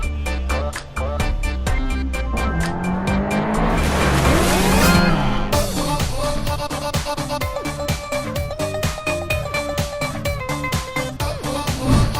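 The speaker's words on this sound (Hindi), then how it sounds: "इतनी तेज गाड़ी क्यों चला रहा है?" A car speeds past with loud tire squeals and skidding, roaring steadily over a rhythmic music-like background throughout, with a sweeping peak around the middle.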